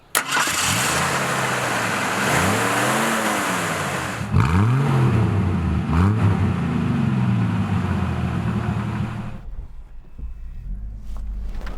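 A 1981 AMC Concord DL compact car cranks and fires up, then revs and pulls away with rising and falling engine tones before settling, loud and close from inside the car.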